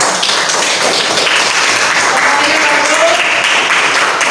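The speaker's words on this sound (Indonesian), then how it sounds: "tepuk tangan dulu semuanya" A roomful of participants at a workshop session claps together, a loud dense burst of applause that holds evenly throughout.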